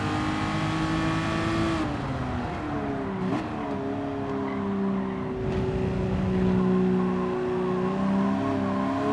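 A Ferrari Testarossa in Gran Turismo 7 revs hard and steadily, its engine note climbing and shifting pitch through gear changes, loud and close with a brief tire squeal, no voices.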